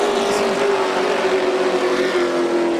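Florida Pro race trucks roar off turn four on the Volusia Speedway Park dirt track at the green flag, a loud sustained engine drone with a steady rising pitch as the pack accelerates.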